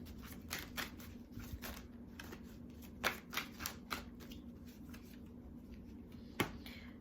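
A tarot card deck is shuffled by hand at close range, producing soft riffling rustles and a series of sharper flicks and taps, quiet overall with no speech.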